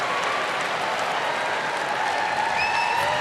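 A New York dog show crowd cheers and applauds for the terrier group, a steady, dense roar of clapping and cheering that holds at an even level throughout.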